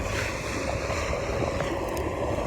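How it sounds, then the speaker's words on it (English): Wind blows steadily across an open farm at harvest time, a continuous broadband rush and rumble that stays at an even level throughout, with no voices. "The wind's blowing a little bit"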